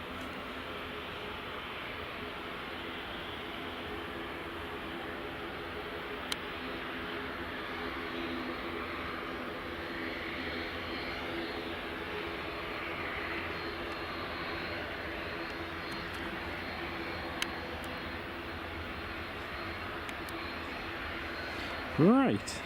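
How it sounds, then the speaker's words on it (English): An Emirates Airbus A350 airliner on approach to Edinburgh Airport, a steady distant jet engine rumble and hiss, faint and continuous throughout. "Emirates on the approach, Richard?"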